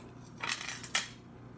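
Two small screws from a Honda Goldwing 1200 computer unit dropped into a container, giving two quick bright metallic clinks about half a second apart, close and fairly faint over a quiet room hum.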